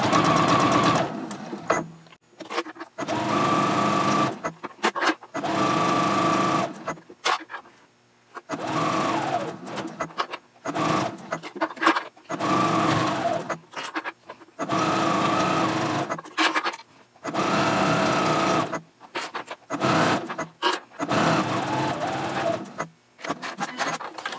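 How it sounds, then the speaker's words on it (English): A home sewing machine on its free arm bastes binding around a zipper case, running in repeated loud whirring bursts of steady needle chatter, each a second or two long, separated by brief quiet pauses. "I'm using the free arm of my sewing machine to baste the bindings in place."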